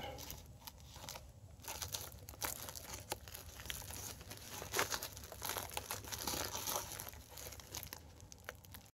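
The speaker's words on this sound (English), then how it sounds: "that requires a pair of tin snips. Let's see if we can so we can cut that." Tin snips cutting a thin wire while installing an HVAC damper and register boot on duct work, heard as close crinkling and crunching metal clicks over several seconds with no talk.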